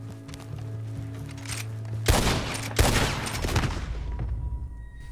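Gunfire in a video game, a sudden loud burst of rapid shots and a second sharp blast a moment later, over steady game background sound, with no voices heard.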